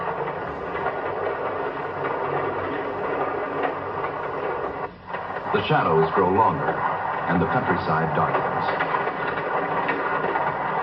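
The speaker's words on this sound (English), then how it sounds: "While the train speeds into the dusk, the porter prepares beds for his passengers." A 1950s passenger train speeds along the rails into the dusk, its steady rolling rumble and faint rhythmic clatter running beneath continuous narration.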